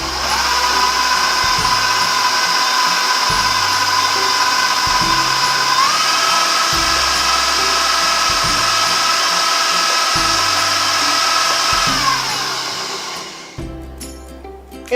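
An electric stand mixer beating chocolate sour cream cake batter, a steady motor whine with a rhythmic low thumping from the bowl, the pitch rising once as it speeds up, then winding down near the end.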